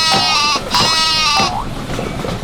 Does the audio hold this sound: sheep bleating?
yes